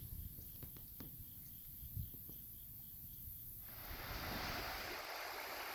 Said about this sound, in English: Finally, some more swift water.